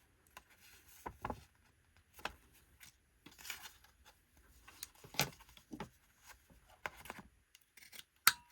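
Small scissors snip through paper craft tags in a quiet room, a series of faint, irregular crisp cuts and rustles.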